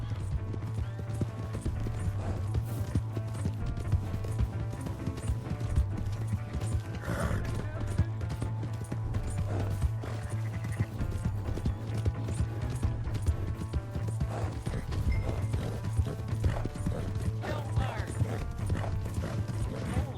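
A horse gallops in Red Dead Redemption 2, its hooves pounding in a rapid, continuous rhythm throughout, mixed with other game sounds.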